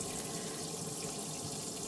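Water running steadily from the faucet of a 2026 inTech Sol Horizon trailer, a close, even hissing stream with no breaks and no talking.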